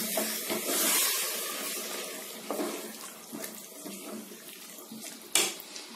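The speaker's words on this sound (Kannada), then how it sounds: "ನೀರು ಹಾಕೊಳ್ತಾ ಇದ್ದೀನಿ." Water poured into a cooking pot while making veg kurma, a steady splashing stream running close and fairly loud for several seconds, with brief clinks partway through and near the end.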